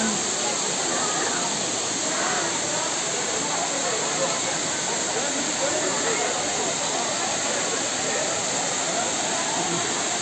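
Large waterfall roars as a steady, broadband rush of falling water that never lets up, a constant hiss-like wash heard from nearby.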